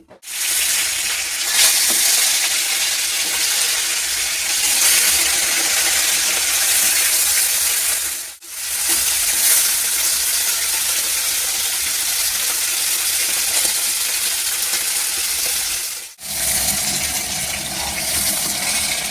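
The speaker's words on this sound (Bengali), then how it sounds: "এবার তেল দিয়ে দিচ্ছি মাছটা ভেজে নিচ্ছি" Fish fries in hot oil with a loud, steady hissing sizzle, heard in three long stretches split by two brief breaks.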